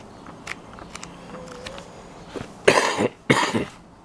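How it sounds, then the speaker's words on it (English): A few soft scattered noises, then two harsh, raspy smoker's coughs close by, one right after the other. "There's my smoker's cough."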